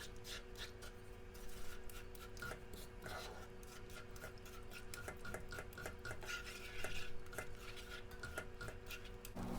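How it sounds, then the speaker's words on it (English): A spoon steadily stirring powdered milk into a dessert mixture in a bowl, giving a soft continuous rubbing and scraping with repeated light taps against the bowl, close and quiet, with no talking. "So I want to try to get the lumps out as I'm stirring this"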